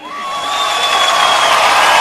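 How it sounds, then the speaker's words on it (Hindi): Studio audience cheering and whooping for Dada on a comedy show, a steady loud crowd roar building over two seconds with high whistles or shouts on top, no talking. "दादा के लिए जोरदार तालियां।"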